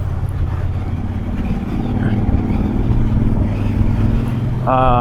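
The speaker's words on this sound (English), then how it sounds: "Bike's getting a little boggy." A Triumph Bonneville Bobber Black motorcycle engine drones low and steady on the road, with a rumbling, slightly uneven tone that swells a little midway. A short tonal note cuts in at the very end.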